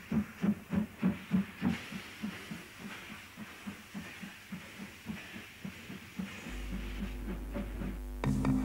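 An East European steam locomotive, near a water column, chuffs in a steady rhythm of loud hissing exhaust beats that soften, then give way to a continuous rushing hiss of steam.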